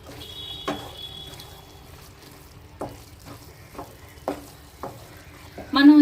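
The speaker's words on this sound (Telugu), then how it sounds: "ఇప్పుడు కలుపుకుందాం. అంతా కలిసేటట్టుగా బాగా కలుపుకొని" A spatula stirs prawn curry with sesame seed powder in a pan, giving a handful of quiet, spaced scraping strokes over a soft simmering bed, with a louder clatter at the end.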